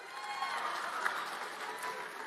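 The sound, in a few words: audience clapping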